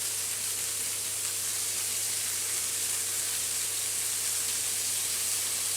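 Crow meat fries in a hot pan, a steady, even sizzle and hiss running unbroken at close range with no voices over it.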